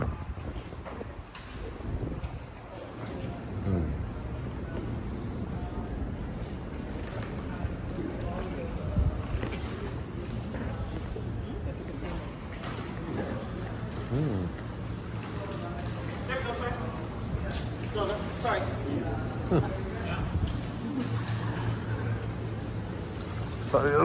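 A boat moves across water near Paradise Island, Bahamas, with a steady engine drone and splashing wash; voices talk intermittently over the constant rumble.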